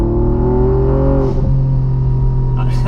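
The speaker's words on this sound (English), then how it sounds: "The blow-off valve, that's nice." Hennessey Velociraptor 6x6 truck engine revving up loud and close, the pitch climbing then dropping as a blow-off valve releases with a short hiss, the engine settling into a steady drone.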